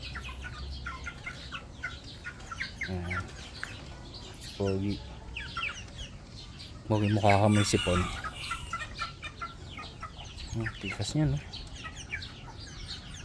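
Rhode Island hens and a rooster on a small backyard farm, with scattered clucks and several loud drawn-out crowing calls close by, while someone talks intermittently over them.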